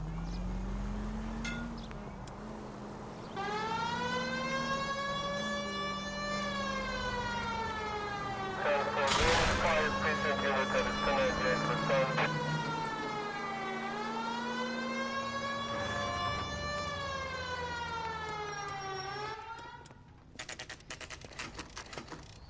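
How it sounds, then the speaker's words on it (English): A video game police car siren wails up and down in long sweeping cycles, loud and close, with a burst of noise midway and a clatter at the end. "You got something against sirens, Phelps?"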